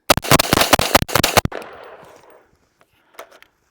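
300 Blackout pistol emptying a magazine of subsonic rounds: a rapid string of about a dozen close, loud shots over roughly one and a half seconds, followed by a fading echo and quiet.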